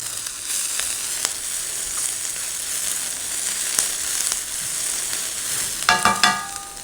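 Spring onion frying in a hot wok for a gluten-free sweet potato lo mein, a steady close sizzle with sharp crackles and pops, and a brief burst of clattering stir-fry scraping near the end, no voices.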